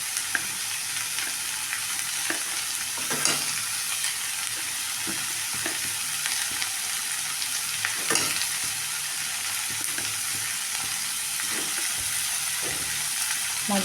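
Snake gourd stir-frying in a pan with onion and tomato, giving a steady close sizzle with repeated scraping strokes of a spatula against the pan throughout.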